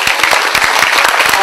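Audience at a talent show claps loudly and steadily, a dense, close burst of many hands with no voices over it.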